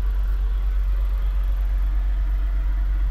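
A bus engine idles steadily at close range, a constant low rumble with no change in pace and no talk.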